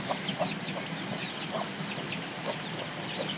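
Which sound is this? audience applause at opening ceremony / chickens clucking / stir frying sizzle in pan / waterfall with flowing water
chickens clucking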